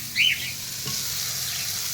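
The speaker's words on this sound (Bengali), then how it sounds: "তেলে ভেজে খেতে হবে।" Food frying in a small amount of mustard oil, a soft steady sizzle close by, with a brief higher chirp near the start and no talk.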